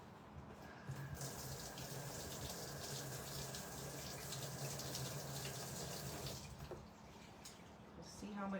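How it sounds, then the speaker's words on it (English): Steady hiss of running water rinsing something outdoors during a cable-spool table project, loud and continuous for several seconds before tapering off at the end. "Let me rinse this."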